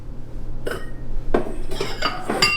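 Ceramic bowl clinks and knocks against dishes as it is taken from a kitchen cabinet for homemade one-ingredient ice cream; a few short, close clatters spread over a couple of seconds with quiet gaps between.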